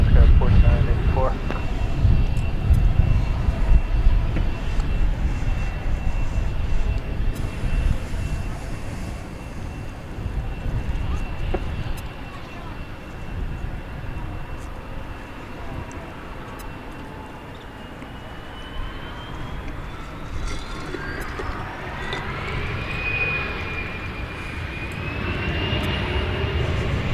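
A SkyWest regional jet on its takeoff run from runway 18 Left at Dallas/Fort Worth airport, with a loud broadband engine roar that holds steady and then swells toward the end as a rising whine emerges, all heard from a distance.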